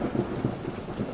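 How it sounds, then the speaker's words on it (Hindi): Heavy rain pours outside with rolling thunder: a steady, dull wash of downpour under low, uneven rumbles that swell and fade over about a second, heard from indoors at moderate level. "बाहर जोरों से बारिश हो रही है"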